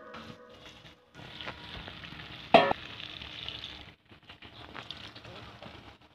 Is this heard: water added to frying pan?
yes